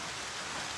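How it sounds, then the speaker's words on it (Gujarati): Rain starting to fall again in the evening outside a family home, a continuous soft hiss of drops on surfaces, steady and even throughout the short stretch, with no voices. "અત્યારે પાછો વરસાદ ચાલુ થઈ ગયો."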